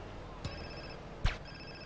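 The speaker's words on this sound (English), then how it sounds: "Don't answer that phone call." A phone rings inside the video game GTA San Andreas, faint electronic rings with two sharper bursts, quiet beneath the game's background sound.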